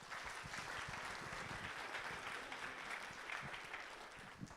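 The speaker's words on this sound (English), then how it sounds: "please give yourselves a huge round of applause" Young robotics competitors and guests at a national championship give sustained, dense applause from a large hall, a steady wash of clapping heard alone at moderate distance.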